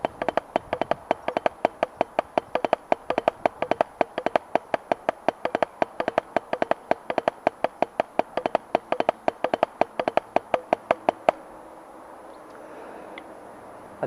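A drum kit plays rapid single-stroke figures as a long even stream of crisp, sharp hits that drive up into the fourth beat, then stop abruptly, leaving a faint ring.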